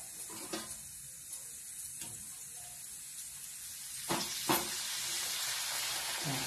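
Hot oil sizzling steadily in a pan before frying papad, a continuous close hiss with a few soft clinks of a utensil against the pan.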